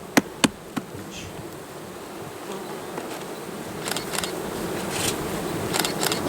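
Dense, continuous buzzing of many bees close by, with a few sharp clicks near the start.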